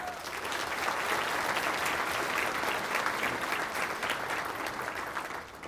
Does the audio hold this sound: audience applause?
yes